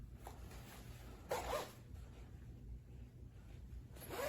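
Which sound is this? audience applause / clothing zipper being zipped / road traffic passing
clothing zipper being zipped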